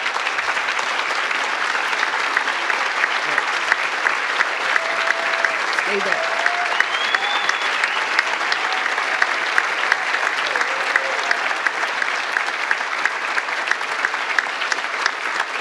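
Medal Day audience giving MacDowell Fellows a sustained round of applause, dense steady clapping from a large crowd throughout, with a voice briefly speaking over it.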